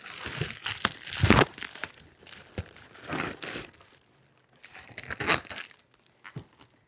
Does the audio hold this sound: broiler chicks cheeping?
no